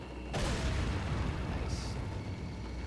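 Frag grenade going off in Resident Evil 4, a sudden broad blast that hits at once and rolls into a long loud rumble with scattered crackle for nearly three seconds.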